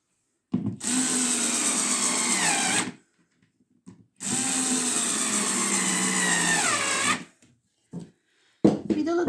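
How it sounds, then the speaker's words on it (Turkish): A power drill drives screws one by one into the base of refurbished old furniture, whining in two long high-pitched runs that slow as each screw seats, with short pauses and a brief restart at the end. "Bu tabanları ilk önce vidayla bu şekilde tek tek vidalıyorum."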